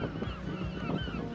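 Seagull calling on the Brighton seafront, a run of harsh, honking cries repeating over about a second and a half amid steady outdoor wind and background noise, fairly close.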